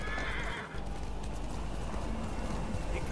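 A horse in Ghost of Tsushima whinnies loudly up close, then its hooves clip-clop steadily over a dense, loud game soundscape.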